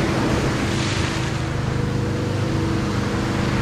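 Pacific Ocean waves rolling in near the shore on a calm day with no wind, a loud steady wash of surf with low rumble and wind buffeting the microphone, no voices.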